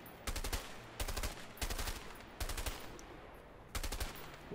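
Bursts of automatic gunfire in the video game A Way Out, five loud rattling volleys of about half a second each with short pauses between them, no talking.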